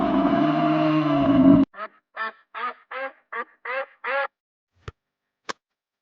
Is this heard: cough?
no